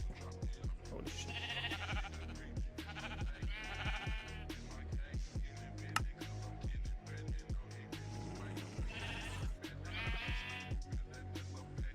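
Sheep in the Minecraft modpack Nomifactory bleat repeatedly, several clear nasal calls spaced a few seconds apart over steady game music with rhythmic low thumps, fairly quiet overall.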